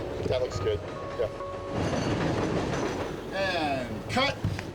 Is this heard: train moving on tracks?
yes